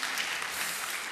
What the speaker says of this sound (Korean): 우리 젊은 자매들이 주로 섬겼는데 좀 박수를 해주시겠습니까?